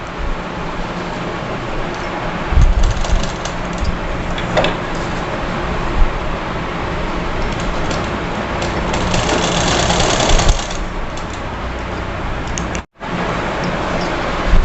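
A sewing machine stitches fabric for a young girl's frock, a continuous whirring motor rattle with short pauses and a brief stop near the end.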